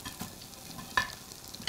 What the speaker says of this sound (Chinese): 炸到鱼头整个这样金黄焦脆，